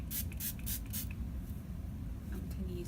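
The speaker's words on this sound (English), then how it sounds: "I don't tend to use wave spray." Wave spray from a Target beauty box is sprayed onto hair in several short, quick hissing bursts, fairly close but soft over a low background hum.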